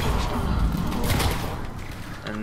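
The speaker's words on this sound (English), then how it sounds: "And there's a big ass explosion." A cluster bomb goes off in the Mass Effect 3 video game, a loud booming blast with rumbling, crackling debris that fades over a couple of seconds.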